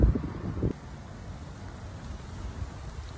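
Steady wind noise from strong gusts buffets the microphone outdoors, with a brief louder rumble of gusting at the start followed by a continuous low roar.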